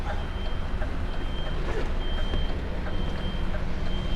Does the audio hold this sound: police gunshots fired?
no